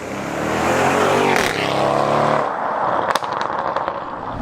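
A modified Audi RS6 engine revs hard and accelerates past nearby, then the throttle lifts and the exhaust crackles and pops several times.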